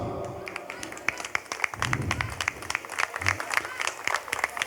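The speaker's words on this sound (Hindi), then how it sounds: "तो एक बार ज़ोरदार हाथ ताली से दोबारा हम इनको अभिनंदन देते हैं।" An audience at a Hindi-language stage event applauds, a dense burst of clapping that swells and carries on for several seconds with faint voices underneath.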